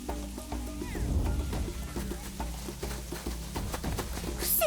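Rain sound effect in a Playmobil City Action cartoon: a steady hiss of falling rain with light patter, running under cartoon music throughout.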